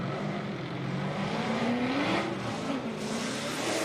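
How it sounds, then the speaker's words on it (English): Formula Drift battle cars race past, a loud sustained engine roar with rising revs and a hint of tire squeal, continuous and fairly close. "Reeder powers through the finish line, and Taylor Hull giving chase"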